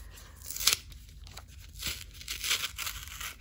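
Packing tape being peeled and ripped off a mailed package: short, faint tearing and crinkling rasps, quiet and close, with no talk.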